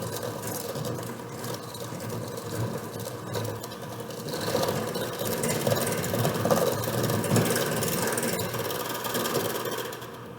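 Hand mixer beating butter and sugar for chocolate chip cookie dough, a steady close motor whir with grinding, rattling texture that swells slightly louder midway and runs continuously without talk.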